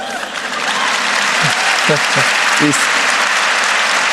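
An audience at a live Hippocratic Oath 2025 event breaks into steady, dense applause that fills the whole stretch, close and loud, while a person briefly speaks over the clapping.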